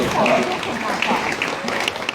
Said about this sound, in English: Let's give Sita a big round of applause.